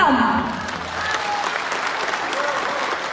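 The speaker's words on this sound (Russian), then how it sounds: "Ваши аплодисменты" Sustained applause from an audience at an awards ceremony, loud at first then settling into steady clapping that continues throughout.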